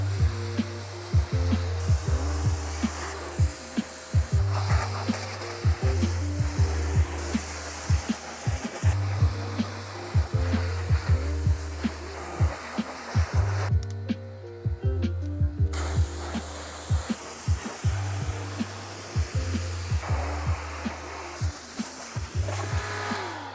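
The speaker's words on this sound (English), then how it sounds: "I do love electric pressure washer" An electric pressure washer spraying down a motorcycle, with a steady loud hiss and motor hum pulsing in short regular bursts, briefly dropping out once before resuming.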